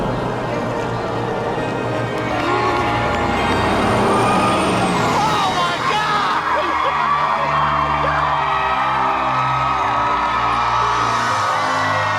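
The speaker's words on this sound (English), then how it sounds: "Bus driver, move that bus!" A large bus pulls away amid a loud crowd of cheering, whooping onlookers, its air brake hissing and engine rumbling steadily as it moves off in front of a newly built family home.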